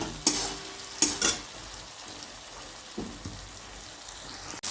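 Shankar fish (stingray) with eggplant being sautéed in a pan, a steady soft sizzle with a few sharp utensil knocks near the start and one more near the end.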